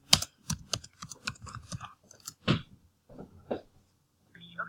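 Someone types on a computer keyboard in a close, quick burst of crisp key clicks, then slower scattered presses before a brief pause and a final soft tap, with no talking.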